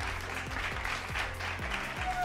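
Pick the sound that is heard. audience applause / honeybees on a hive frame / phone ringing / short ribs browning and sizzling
audience applause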